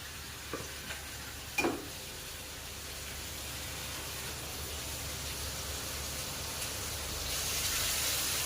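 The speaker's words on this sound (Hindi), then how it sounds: "अब डाल देती हूँ इसमें ये ग्रीन चिली पेस्ट और ये टमाटो प्यूरी डाल दूंगी इसी में" Green chili paste and tomato puree hitting hot oil in a pan for matar paneer, giving a steady close hiss of frying after a couple of brief clinks, the sizzle swelling slightly toward the end.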